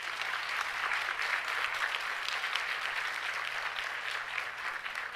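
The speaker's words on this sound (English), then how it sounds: "Let's give a round of applause to our panelists." Audience applause for panelists at a reentry council meeting in Spruce Pine, a dense, even wash of clapping sustained for the full stretch at moderate volume.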